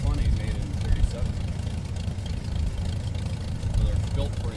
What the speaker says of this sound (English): And the tractor's a Farmall F20, made in 37.